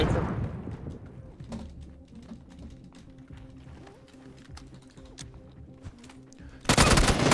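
Rapid bursts of gunfire crackle through a game soundscape, with scattered single shots over a steady low rumble and a loud blast near the end.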